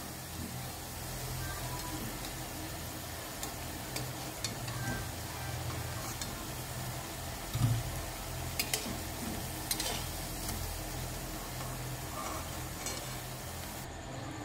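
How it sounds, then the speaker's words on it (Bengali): Onion fritters (piyaji) fry in hot oil with a soft, steady sizzle, broken by a few light clicks and knocks from stirring, quiet and close with no talking. "এভাবে আমি আরও সবকটা পেঁয়াজি ভেজে নেব।"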